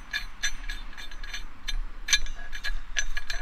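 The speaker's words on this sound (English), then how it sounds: "You use a 3/4 inch wrench to sort of snug it, or crescent wrench, whatever you got that'll snug that down on there." A wrench ratchets in quick, irregular bursts of clicks while snugging down a trailer coupler lock, close and crisp against a quiet background.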